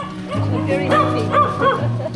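Husky-like dog at an animal rescue centre on Coron Island giving a short run of close, loud, whiny, howling barks and yips.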